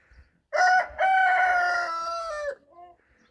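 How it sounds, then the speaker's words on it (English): A rooster crows loudly and close, one long drawn-out call after a short opening note, followed by a few softer trailing clucks. "Dang rooster. Never shuts up."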